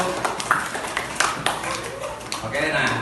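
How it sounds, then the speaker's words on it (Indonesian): Scattered hand claps from a classroom of students applauding a group, a few sharp claps standing out over a steady murmur of voices. "Tepuk tangan dong untuk kelompok 1."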